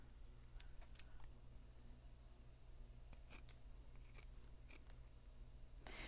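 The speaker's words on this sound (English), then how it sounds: "while you're cutting apart too, you can go ahead and cut off the red" Scissors cut paper strips in quiet snips, some single and some in short clusters, against a faint steady background hum.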